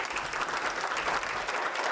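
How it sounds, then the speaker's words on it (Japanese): Audience applause fills a conference hall at an Expo venue after a healthcare panel session, a dense steady wash of many hands clapping with no talk over it. "改めて拍手申し上げて終わりたいと思います"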